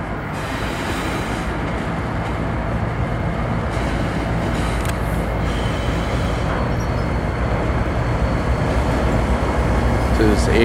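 BNSF freight locomotives rolling past close by, a loud continuous rumble and clatter of the train that stays steady throughout, with engine drone underneath.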